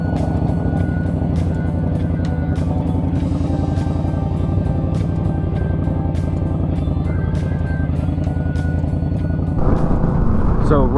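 An Indian Scout Bobber motorcycle cruises at about 60 mph, its engine a constant low rumble under loud wind roar, with a rider speaking over it.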